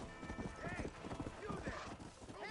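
Horse hooves clip-clopping in the Western video game Red Dead Redemption, a quick rhythmic gait of hoofbeats over a steady background, with neighs, mixed under a voice talking.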